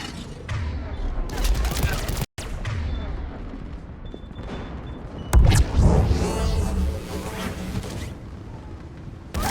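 Gunfire in the video game Mass Effect 3 rings out in bursts amid a loud battle mix with booms and rumbling, while voices talk over the action.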